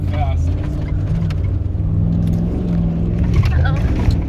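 A Hummer H2 drives fast across desert sand dunes toward a berm, its engine a steady loud rumble under excited voices talking throughout.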